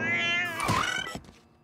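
A cartoon cat gives a single loud, close, drawn-out meow that trails off over a sustained tonal background.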